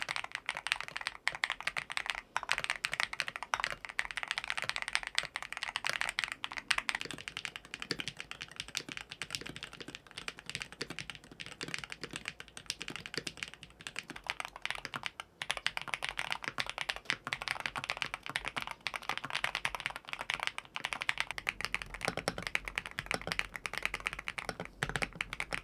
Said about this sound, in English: here's a few of my most favorite sounding magnetic keyboards